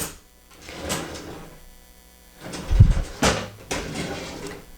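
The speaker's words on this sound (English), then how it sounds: "This is just my everyday drawer. I get in there every single day." An everyday drawer in a soap-making studio slides open and shut, giving several soft scraping rumbles and a couple of dull wooden knocks close by, with no speech.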